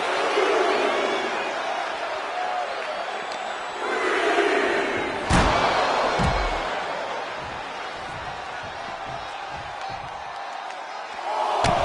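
Wrestling arena crowd in WWE 2K25, a sustained roar of cheering and shouting that surges around mid-clip with a few impact thuds from the ring, with commentary talking over it.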